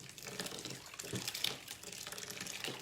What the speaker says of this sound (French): Ajoute encore de l'eau.